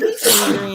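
A single sharp human sneeze, loud and close, bursting out over a brief spoken greeting during a live work-from-home stream.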